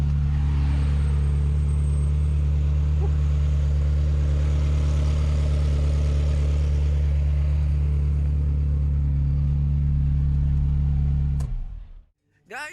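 Cars in road traffic at Monza, Italy: a close, loud engine drone with deep rumble holds steady, then cuts off abruptly near the end.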